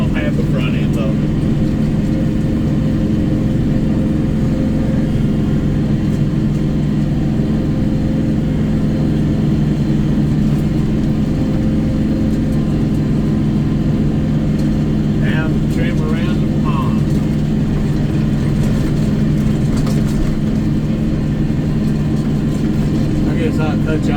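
A Kioti NS4710 tractor pulling an 8ft bush hog runs continuously, its engine and mower droning with a steady low rumble and a few brief higher squeaks partway through.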